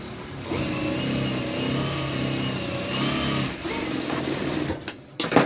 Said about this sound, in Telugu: ఇప్పుడు ఇటువైపు చివరను కూడా మనము ఒక కుట్ అనేది వేసేసుకోవాలన్నమాట